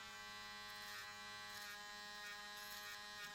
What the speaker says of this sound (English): we're already using the trimmer and remove the excess hairline around the